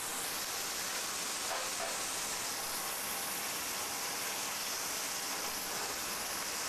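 A cooking flame flares under chicken in a pan, giving a steady, even roaring hiss that holds at a constant level throughout.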